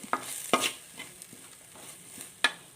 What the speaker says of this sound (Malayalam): ഇത് ചേർത്ത് ഒന്ന് മൂപ്പിച്ചെടുക്കണം അരപ്പൊക്കെ അങ്ങനെ നന്നായിട്ട് ഒന്ന് മൂത്തിട്ടുണ്ട്